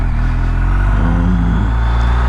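A vehicle engine held in first gear gives a brief rev: a steady, loud low drone that swells and rises in pitch midway, then settles back, with no talk over it.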